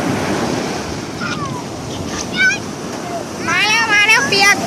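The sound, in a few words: sea waves washing onto a beach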